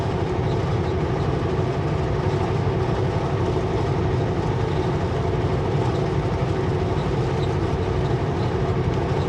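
A Canadian Pacific freight train rolls past on the line near Barrière, British Columbia, a steady heavy rumble of wheels and railcars with low engine drone, continuous and fairly distant, without voices.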